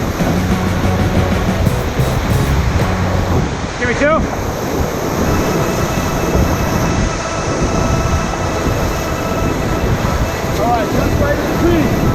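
Whitewater roars steadily at Three Sisters Rapid on the Swan River, a run of three large standing waves, a loud continuous rush of churning water heard up close throughout.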